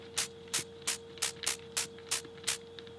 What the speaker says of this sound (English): it gives this distortion type effect.